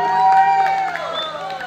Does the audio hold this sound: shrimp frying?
no